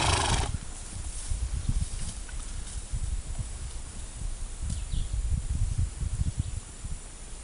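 A young mare of about four years moves about outdoors, with soft hoof thuds and shuffling over a steady wash of background noise.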